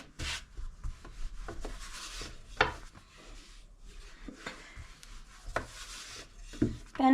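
Thin floured yufka dough being rolled out by hand with a long wooden rolling pin, a dry rubbing and rasping that comes in repeated close strokes with small knocks, without talk.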